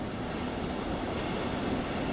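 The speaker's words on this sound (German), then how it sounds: "Da kommt die S-Bahn in die Gegenrichtung." An S-Bahn commuter train on the S1 through snowy Dresden in Train Sim World passes on the opposite track, heard as a steady dense rushing rumble that fills the whole short stretch without any talk.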